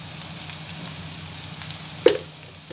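Chopped onions sautéing in a pan with salt being added, giving a steady, soft frying sizzle throughout, with a brief sharper clatter near the end as something is stirred or dropped in.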